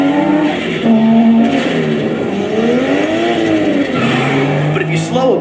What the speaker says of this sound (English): Launch at the right time and rocket into the lead with speed.